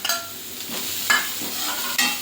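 Chopped carrots and capsicum being sautéed in a pan, a close sizzle with three distinct stirring scrapes spaced about a second apart.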